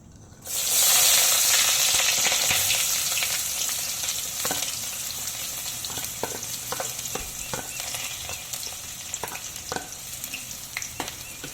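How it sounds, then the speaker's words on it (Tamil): Onions sizzle steadily in hot oil, starting with a loud burst and settling into a constant frying hiss with occasional stirring scrapes. "அது போட்டுக்கலாம் எண்ணெயில்."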